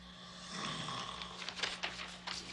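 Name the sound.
snoring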